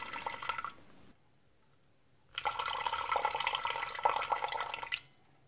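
Tap water, 250 millilitres in all, running into a container to mix a sugar-based CO2 fertiliser recipe. Two pours can be heard, a short one and then a steadier stream of about two and a half seconds, each close and clear, with a pause between them and no talking.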